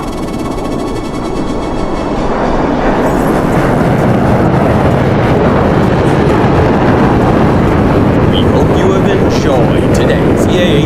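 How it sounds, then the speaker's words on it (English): An EA-18G Growler jet passes at a twilight airshow, a loud, steady, broadband roar that holds throughout, with wind buffeting on the microphone and crowd noise underneath. "for the last time today, the Growler and the reaction brake"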